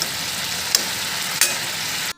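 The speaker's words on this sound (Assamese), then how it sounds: "বিলাহী দি আৰু অলপ সময় ভাজিব লাগিব" Cauliflower and tomato fry in a pan with a steady, even sizzle. Two sharp utensil clicks land along the way before the sound cuts off abruptly.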